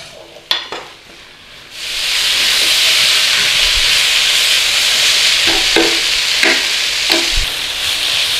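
Butter and flour fry in a pan for a Lancashire hot pot, giving a loud, steady sizzle and hiss that swells after a quieter start, with a few brief knocks and stirring scrapes. No one speaks.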